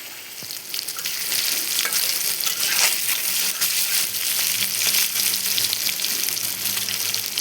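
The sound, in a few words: soya chunks frying in soy sauce in a pan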